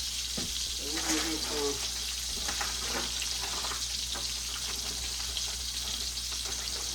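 Unbreaded shrimp fry in a pan with a steady, close sizzle that holds even throughout, broken by a few faint clinks early on.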